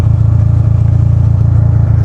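A motorcycle engine runs close and loud with a steady, throbbing low rumble that holds at an even pace for about two seconds, with no voices heard.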